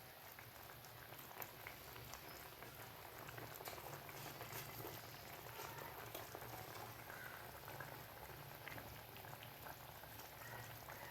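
A pot of drumstick curry (theeyal) bubbling at a steady, gentle boil, a soft continuous simmer with small pops throughout, fairly quiet and close.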